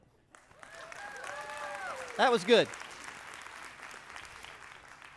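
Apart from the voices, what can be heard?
church congregation clapping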